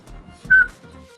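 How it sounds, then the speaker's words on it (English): A short, clear whistled note rises briefly over a low murmur of talk, lasting about a quarter second. "Can you? You can't whistle?"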